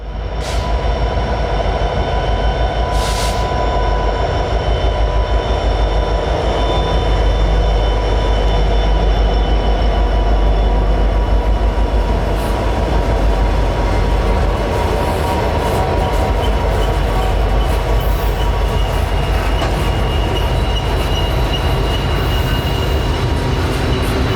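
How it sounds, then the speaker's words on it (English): A mixed freight train led by an original rebuilt SD70ACe locomotive rumbles past on Pennsylvania's Horseshoe Curve in winter, a loud continuous roar of engine and rolling wagons with faint wheel squeal. "Here's one of the original ones leading a mixed freight train down towards Altoona."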